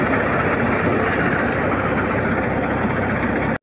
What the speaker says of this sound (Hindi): आ रहे ये ट्रैक्टर भाई